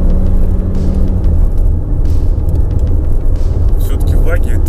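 A Skoda Superb in sport mode accelerates hard, its engine a loud, continuous low rumble with road noise, while someone talks over it throughout.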